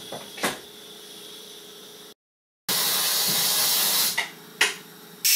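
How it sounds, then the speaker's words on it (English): A pressure cooker holding beef caldereta, a Philippine beef stew, builds pressure with a steady, loud hiss that cuts out briefly, then returns stronger, with a few sharp clicks and bursts. "Bring it to the boil again, put a lid on, bring it up to pressure."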